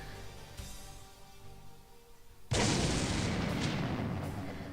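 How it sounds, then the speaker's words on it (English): In the Dies Irae visual novel, a quiet, murky stretch breaks into a sudden loud boom partway through, then a sustained roaring blast that lingers at full strength to the end, with no talk. "The bullet hit Wilhelm in the chest, followed rapidly by an explosion."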